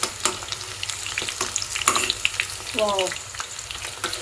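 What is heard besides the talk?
tuna fish pieces frying in a pan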